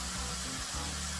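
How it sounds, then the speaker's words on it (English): Steak sizzles in a hot pan for steak mofongo, a faint continuous hiss and crackle with a low hum underneath, steady and unbroken. "You can hear that sizzle."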